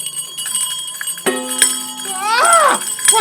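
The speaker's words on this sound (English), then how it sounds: "Every bell in this house must be ringing." Old servants' bells in a house, a radio drama sound effect: a bell rings, then many bells jangle together loudly with swelling metallic overtones, and a voice cries out over the ringing.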